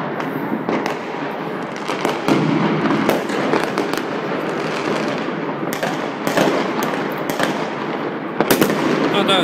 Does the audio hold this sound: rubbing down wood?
no